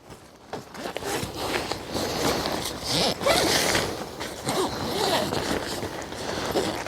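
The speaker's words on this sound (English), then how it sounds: "It's important to zip it all back up." A teepee tent's fabric door being zipped back up, a steady scratchy zipper run with shuffling and rustling of taut tent material close by.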